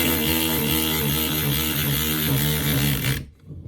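A Milwaukee M12 3/8-inch cordless ratchet fitted with a socket drives a 2-inch screw into a pre-drilled hole, giving a loud, steady motor whine for about three seconds before it cuts off abruptly into silence.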